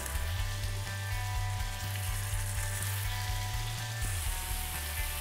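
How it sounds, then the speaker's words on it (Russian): Minced lamb patties fry in a pan in leftover fat, a steady close sizzle and crackle with a low hum underneath, continuous throughout. "А жарить их буду на той же сковородке, на ней осталось достаточное количество жира"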